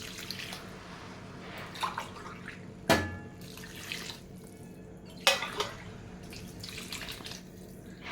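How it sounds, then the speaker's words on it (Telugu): Water running and splashing steadily into a cooking pot of rice for pulao, with a couple of sharper sloshing bursts partway through. "ఇప్పుడు నేను వాటర్ వేసేస్తున్నానండి."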